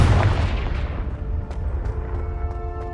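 A Confringo blasting spell detonates in Hogwarts Legacy, a deep booming explosion that rolls out and decays over a few seconds, loud and close with no talk over it.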